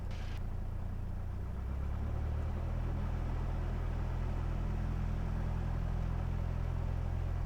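Cessna 172S piston engine at takeoff power on runway 33 right, a steady loud low drone with a constant rumble throughout, no talk over it.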